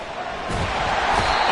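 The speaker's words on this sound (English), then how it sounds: "This crowd turning up the decibel level" A football stadium crowd at a Cowboys vs Ravens game roars in a steady, loud wash of noise that keeps building, with no clear voices standing out.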